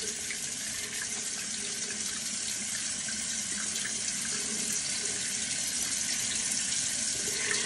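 Tap water running steadily into a sink to rinse off facial cleanser, a constant close gushing flow with no talking.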